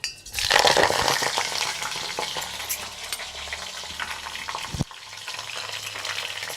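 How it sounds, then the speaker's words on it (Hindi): Flowers dropped into hot sesame oil sizzle and crackle loudly right away, settling into a steady frying hiss with occasional clinks of a utensil. A brief sharp knock comes near the end. "ये अब इस पुष्प को हम इस तेल में डाल देंगे।"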